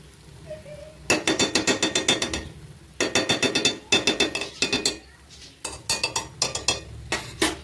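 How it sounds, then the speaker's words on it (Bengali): A spoonful of ghee goes into a carrot laddu mixture in a pan, followed by quick rhythmic bursts of a spoon scraping and clanking against the pan, loud and close, with short pauses between rounds of stirring. "এবার নামানোর আগে 1 চামচ ঘি দিয়ে দেবো,"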